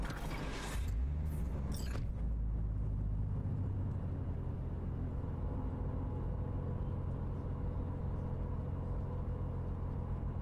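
Car in Cyberpunk 2077 driving with a steady low engine rumble and mechanical creaks, a brief sharp burst of noise at the start, then a continuous loud drone throughout.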